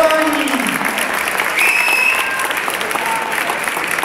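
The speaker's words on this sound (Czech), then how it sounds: "Pojďme jim zatleskat" A full hall applauds at a 2010 school graduation ceremony in Chomutov as students enter, a loud, dense, continuous wash of clapping from a large audience, with a brief whistle-like tone and faint voices underneath.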